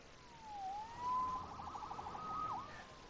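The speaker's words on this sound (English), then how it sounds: "Saved by the siren." A police siren from the Spider-Man video game wails in a clear electronic sweep, rising and falling before ending on a sharp yelp, heard alone at moderate distance with no talk.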